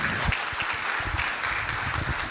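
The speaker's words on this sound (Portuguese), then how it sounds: "Quem disse amém, aplauda Jesus" A church congregation claps during a worship service, a steady, moderately distant ripple of many hands sustained throughout, with no clear speech over it.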